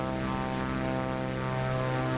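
Cessna Corvalis TT propeller plane in Microsoft Flight Simulator drones through takeoff with a steady, loud, evenly humming engine and buzzing propeller tone, unbroken and with no voices.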